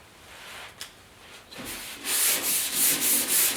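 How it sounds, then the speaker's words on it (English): A palm sander works the lower edges of a 1956 Mercury front fender. After a quiet start with a few light rubs, it settles into loud, close, rhythmic scrubbing with regular surges. "on these edges, down below, we're just going to hit it with a palm sander"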